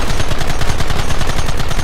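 Rapid, continuous gunfire from the video game Red Dead Redemption, loud bursts that repeat in a steady fast rhythm across the whole moment, with no voices.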